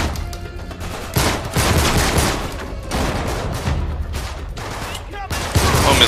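Dense gunfire from a firefight in the video game Uncharted 3, with loud, overlapping bursts and several sharp blasts coming in quick succession and keeping a busy, layered texture throughout.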